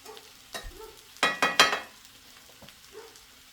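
Home-fried potatoes cook in a preheated cast iron skillet with plenty of oil and grease outdoors, bursts of loud sizzling as they are stirred, then a quieter crackle with light utensil clinks.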